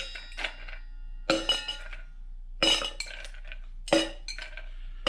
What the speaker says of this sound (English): And get a few ice cubes in that.